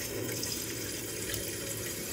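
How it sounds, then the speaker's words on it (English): Water rushes steadily into a domestic boiler system through a Caleffi XS 22mm under-boiler magnetic filter, a continuous even hiss with no voices. "we just put some water in."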